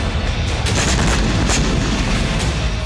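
Large explosion in Moscow heard as news footage: a dense, continuous roar of blast and rumble with repeated sharp booms cracking through, loud and sustained throughout with no talk.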